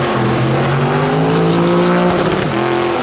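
A car doing a burnout at Goodwood: a loud, continuous engine roar with screeching tyres, the pitch holding high before dropping and climbing again near the end, heard up close with no talking.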